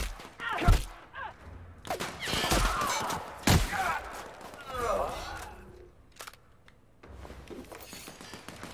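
Shotgun blasts in the video game The Outer Worlds, several sharp booming shots scattered among thumps and game effects, with someone talking in between.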